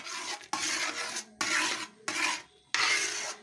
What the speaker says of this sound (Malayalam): ഇത് നന്നായിട്ട് ഇളക്കിക്കൊണ്ടേ ഇരിക്കണം, കൈ എടുക്കാതെ തന്നെ.